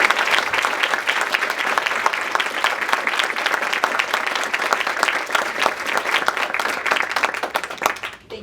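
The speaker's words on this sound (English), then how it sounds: "Can we have a round of applause for this?" Sustained, dense applause from an in-store bookshop audience for author Karen Russell, steady and fairly loud throughout, tapering off only at the very end.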